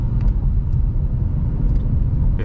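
Engine of a 2024 Ford Mustang Dark Horse with a 10-speed automatic, heard as a steady loud low rumble from inside the car during paddle-shift gear changes, with brief faint higher blips.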